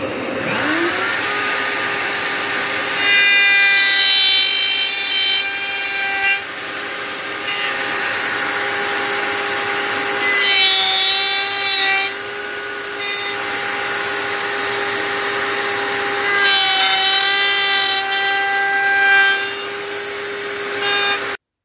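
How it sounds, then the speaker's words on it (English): A PantoRouter routes dovetail tails in wooden drawer box boards with a loud, steady high-pitched motor whine. Several harsher bursts of cutting noise rise and fall as the bit passes through the wood, with no talking. "I've finished routing the tails on the left end of both boards"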